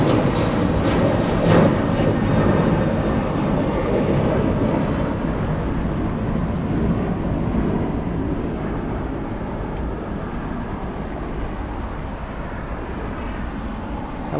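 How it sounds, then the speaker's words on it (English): A large airliner on final approach to the north side of LAX, a broad distant engine roar that holds steady and fades slightly over time, with wind rumble. "We have a big plane on final approach for the north side."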